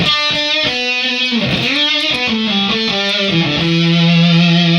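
Electric guitar run through an effects pedal with a compressor placed ahead of it, playing a short melodic line of distorted, sustained notes that slides down and settles into a long held tone, loud and alone.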